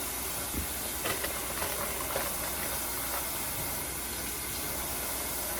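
Food is rinsed under running water, a steady broadband hiss of flowing water that continues without a break.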